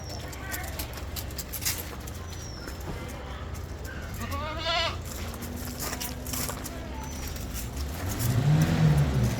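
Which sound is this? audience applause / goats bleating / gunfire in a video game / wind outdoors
goats bleating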